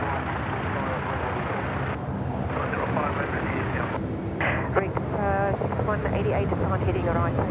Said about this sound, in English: Singapore now taxiing down Alpha